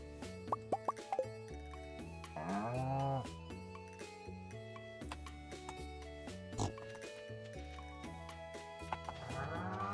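A cow moos in the Stardew Valley farming video game, a drawn-out mid-pitched call among plopping game sound effects and short musical tones, with no talking over it.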